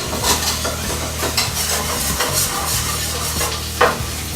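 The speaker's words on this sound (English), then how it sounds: "So you just kind of whisk it all together." A sauce is whisked together in a pan while a steady sizzle of frying potatoes runs underneath, with repeated scraping strokes and a sharp clink near the end, close and moderately loud.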